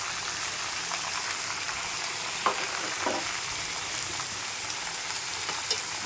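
Mango pieces and spices frying in oil for pickle, a constant soft sizzle with occasional scrapes and taps of stirring, no voices.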